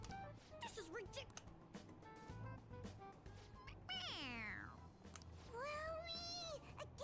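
A toy cat in the Persona 5 Royal video game meowing when its head is pressed, giving several bright, drawn-out meows with rising and falling pitch, clear and close, while a person talks over the game audio.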